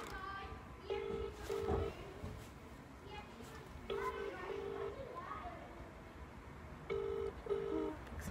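Phone dialing and ringing over a loudspeaker: paired electronic tones repeat three times in a steady ring cadence, under chatter from people nearby.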